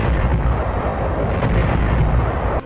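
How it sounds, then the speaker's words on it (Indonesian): Heavy Allied naval bombardment of the Morotai coastline in 1944, a loud continuous rumble of overlapping explosions and artillery fire with deep booming low end that cuts off abruptly. "Ledakan demi ledakan mengguncang daratan"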